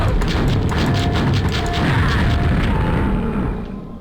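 Rocket explosions pound against a Shambler monster in a first-person shooter game. The booming, crashing blasts are loud and dense, run almost without a break, then fade slightly at the end.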